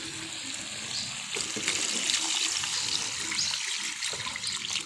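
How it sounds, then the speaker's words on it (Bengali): Water is poured into a pot of chicken and potato curry, a continuous splashing gush that swells louder after the first second and holds steady. "পানিটা দিয়ে দিব"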